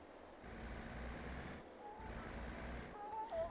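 A truck in a farming video game set in Italy rolls along with a steady, low engine drone. The sound is faint and distant, with a few high beeps near the end.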